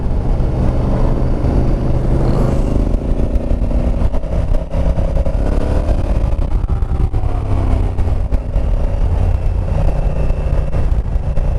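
A 2021 Honda Africa Twin 1100 motorcycle pulls out of a mountain-road turn in second gear, its engine note rising and climbing in pitch over steady wind rush, loud and close throughout.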